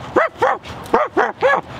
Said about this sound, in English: Isn't that just the dog sound?